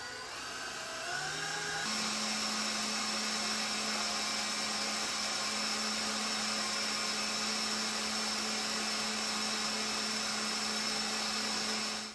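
Kitchen grinder churning cranberries, oranges and mint, a loud steady motor whine that dips briefly at first, then settles into a constant high drone with sharp tonal hum, running alone for about twelve seconds before cutting off.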